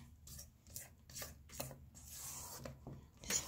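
Red velvet cake batter being mixed by hand in a bowl, a series of soft rhythmic scraping and folding strokes, close but quiet, with no voices.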